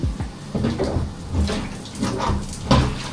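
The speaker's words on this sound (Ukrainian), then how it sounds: "Оце я розумію, джерельна, карпатська джерельна тече." Spring water from the Carpathians runs from a tap after a boiler replacement, a steady rushing splash that sits close and fairly loud with small clatters mixed in, no voices over it.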